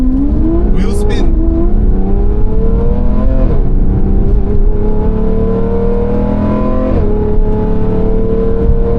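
A car's engine revs hard as the tyres spin under acceleration on a warmed-up car, the pitch rising in repeated surges with a brief high squeal early on, loud and close throughout.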